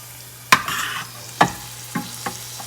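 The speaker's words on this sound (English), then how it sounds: "I'm gonna just keep stirring and folding this butter into this sauce." Butter being stirred and folded into a sauce in a pan, with a low sizzle under a few distinct scraping knocks of a spoon against the pan, spaced irregularly and fairly close.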